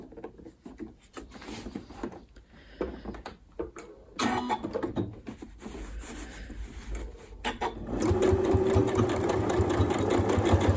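A Janome Horizon Memory Craft 9480 QC sewing machine stitches in short stop-start bursts with clicks and handling noises, then settles into a steady, louder run of fast stitching near the end.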